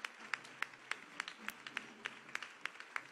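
A church congregation at a Palm Sunday service claps in a steady rhythm, about three sharp claps per second, fairly faint and even throughout.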